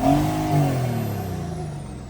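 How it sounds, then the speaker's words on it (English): A turbo diesel 380SL engine revving in neutral while sitting still, with the turbo spooling. A loud, close rev rises quickly, then the engine note settles and falls away. "That's a really responsive, quick spooling turbo."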